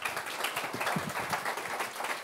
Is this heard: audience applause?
yes